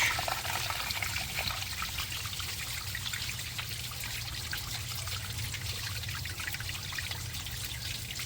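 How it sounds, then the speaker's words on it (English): Water flushes through the heater core hose of a 2017 Dodge Ram 6.7 Cummins, a steady, continuous pouring and trickling rush close by with no talk. "Now I'm going to turn it on and let it flush."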